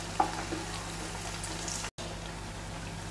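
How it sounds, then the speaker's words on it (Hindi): Potato laccha tikki fries in hot oil with a soft, steady sizzle and a faint low hum, a brief tap near the start and a momentary dropout midway; no talking. "इसे दोनों साइड से हम गोल्डन ब्राउन होने तक फ्राई करेंगे ताकि ये क्रिस्पी बने।"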